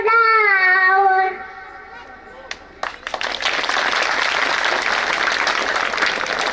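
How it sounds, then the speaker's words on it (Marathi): An audience at a performance of a Shivaji devotional song by a child breaks into loud, sustained applause that swells after a sung note and a few scattered claps fade out. "सर्वांनी जोरदार टाळ्या वाजून बाळाचं कौतुक करूया"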